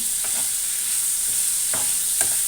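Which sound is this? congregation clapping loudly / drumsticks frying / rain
drumsticks frying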